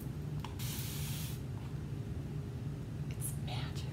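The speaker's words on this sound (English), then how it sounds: "Have you seen this magical spray bottle?" A fine-mist spray bottle sprays in a couple of short hissing bursts, near and fairly quiet, while a low hum runs underneath throughout.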